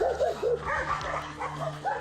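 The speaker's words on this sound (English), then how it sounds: "We have a dog on the left here." A dog barks and yips repeatedly behind a fence in a residential neighborhood during a trash run, close and loud, with whimpering mixed between the barks.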